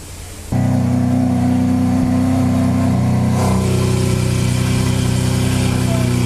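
A Brabus G 4x4² off-roader's engine starts its exhaust after a short quiet moment, then idles loud and close with a steady deep drone and a slight swell partway through.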